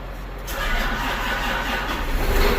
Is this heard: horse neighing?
no